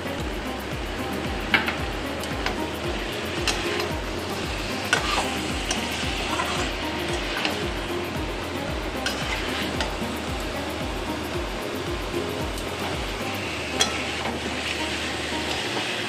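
Spice mixture for elephant foot yam curry frying in oil, a steady loud sizzle throughout with repeated spoon scrapes against the pan at a regular stirring rhythm, no voices.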